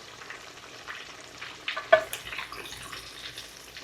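Chapli beef kebabs deep frying in hot oil, a steady low crackle with a brief louder burst of sputtering near the middle, fairly close and without voices.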